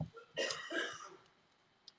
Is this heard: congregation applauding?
no